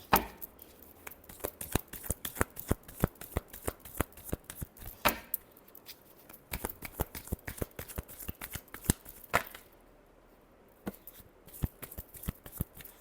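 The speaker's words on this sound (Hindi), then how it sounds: "Last shuffle." Tarot cards being shuffled by hand, a steady run of crisp riffling snaps and soft card slaps, close and clear with brief pauses, no talking.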